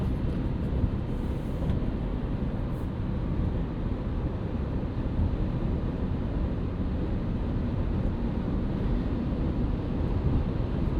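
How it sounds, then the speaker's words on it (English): Broadband wind rush and road roar inside a 2026 Subaru Forester Wilderness with a window open, a steady loud wash of noise with no talk. "So you've got some wind noise."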